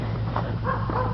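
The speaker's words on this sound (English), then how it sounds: "This is my dog, my other dog, Buster." A blind rescue dog outdoors in snow and ice after an ice storm gives short whimpering yips and soft barks, close and fairly loud.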